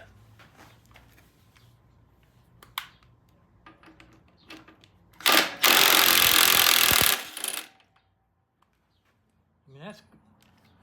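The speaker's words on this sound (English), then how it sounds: "when I loosen this nut" Loosening a nut on the swing arm of a Triumph T120 motorcycle on a lift: soft scattered clicks and taps, then a loud, dense burst of harsh metallic noise lasting about two seconds, followed by a brief faint scrape.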